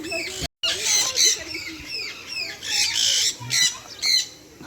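Sun conures squawking at Beauval zoo, a flock giving repeated shrill, harsh calls close by in quick bursts.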